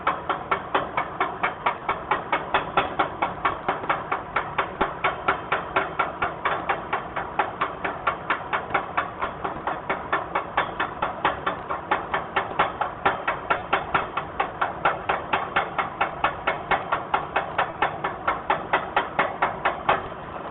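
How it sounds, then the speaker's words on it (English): Chipping hammer knocking slag off a fresh weld bead: a steady, rapid stream of sharp metallic taps at an even rhythm, close and consistent for the whole stretch, with no talking. "Chip the slag off of it."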